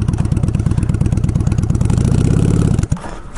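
A Honda Shadow motorcycle engine runs steadily with a rhythmic, throbbing idle, loud and close, then a clunk as the rider shifts into gear and the engine note drops.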